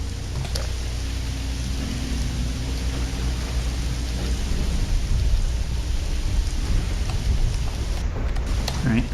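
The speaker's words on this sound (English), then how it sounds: "I think I was actually saved from burning by the rain" Rain pours steadily in a video game while low thunder rumbles underneath, a dense, even wash of storm noise with a brief crackle near the end.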